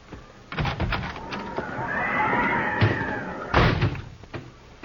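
A horse neighs in a Western radio drama scene set at a frontier cabin, a rising whinny carried over low room noise with a few sharp knocks or thumps around it and no voices.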